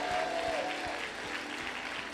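A church congregation applauding and cheering to God during a sermon, a steady wash of clapping with a faint sustained tone running underneath.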